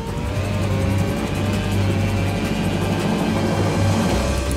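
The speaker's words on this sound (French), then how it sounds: "Nous voici ici à Valencia en Espagne dans le Red Bull F1 Simulator pour un tour de circuit." Red Bull F1 racing simulator lapping the Valencia circuit in Spain, its F1 engine note a steady, loud, continuous drone with a low harmonic hum throughout, no speech over it.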